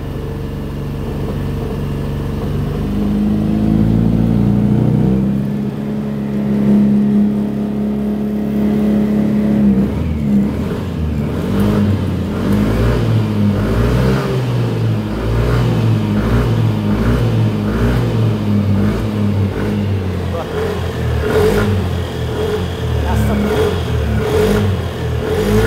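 A Yamaha NMAX scooter with a starting fault revs its engine, a steady, loud motor drone with rising and falling throttle pulses, while people talk close by throughout.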